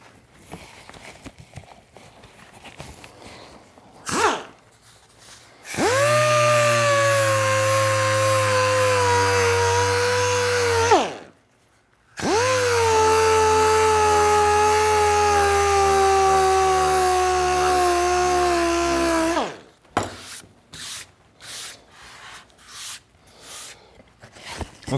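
A power sander runs loudly and close on the arched wooden top of an archtop guitar in two long steady passes with a brief stop between, framed by quieter handling noises before and after.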